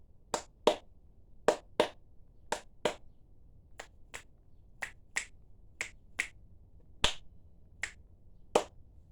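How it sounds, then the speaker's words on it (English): A series of about sixteen crisp finger snaps, close and quiet, fall in an uneven rhythm of pairs and singles during an upper body stretch session, with no talking. "Working on my clap snaps."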